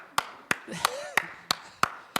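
Seven sharp single hand claps, spaced about a third of a second apart, ring out in a quiet room to welcome a guest, with a faint voice between them.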